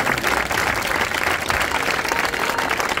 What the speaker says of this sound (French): Évidemment, on peut les applaudir